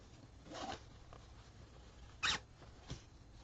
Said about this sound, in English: go ahead and close your invisible zipper